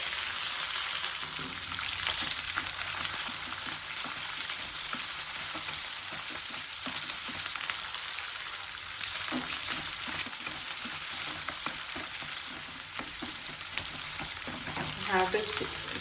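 Tindora frying in oil in a kadai with mustard seeds, jeera and curry leaves: a constant close hiss and sizzle with scattered pops and stirring scrapes throughout.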